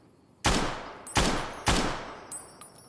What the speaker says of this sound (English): The gunshots sound loud as hell.